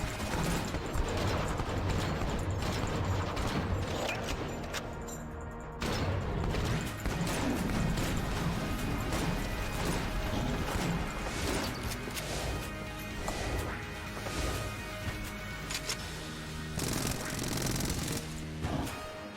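Rapid, continuous bursts of heavy pulse cannon fire in the video game Enter the Gungeon, with crashing impacts and layered game effects, loud and dense, running without pause.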